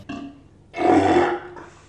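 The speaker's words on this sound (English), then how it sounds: "Do you burp forward and then try to like blow it on him?" A single loud, rough burp swells and fades over about a second after a brief grunt-like sound, up close with no talking over it.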